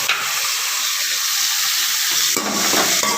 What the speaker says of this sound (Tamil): இப்போ நல்லா வணக்கிட்டு